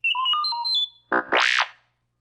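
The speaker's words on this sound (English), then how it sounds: "You will know it is time to turn the page when you hear R2-D2 beep like this" R2-D2 chirps a quick run of electronic beeps and tones, followed by a rising and falling warble.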